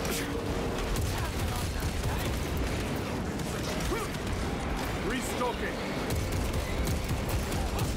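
Gunfire in Warhammer 40K: Space Marine 2, a steady, dense rattle of shots and battle noise held at a constant level under a talking voice.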